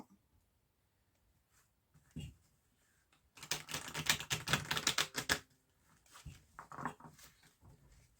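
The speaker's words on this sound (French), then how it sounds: "Je vais bien brasser les cartes pour bien faire circuler les énergies pour vous" Tarot cards are shuffled by hand in a dense, rapid burst of riffling clicks lasting about two seconds, followed by a few softer card taps in an otherwise quiet room.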